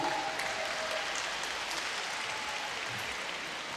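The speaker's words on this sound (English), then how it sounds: "Give yourselves a big round of applause for your generosity" Dense, steady applause from a gala audience at a Louisville Urban League Derby fundraiser fills the room, loud and continuous from start to finish with no pause.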